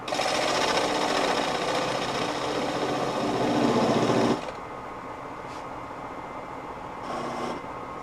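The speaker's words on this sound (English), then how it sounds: "A spindle detail gouge for the final step." A wood lathe turns a double-trunk spruce natural-edge bowl while a spindle detail gouge cuts, a loud dense whirring rasp that stops abruptly halfway, leaving a quieter motor hum with brief light touches.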